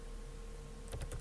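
A few quick keystrokes on a computer keyboard near the end, light clicks over a faint steady hum, as a command prompt command is typed.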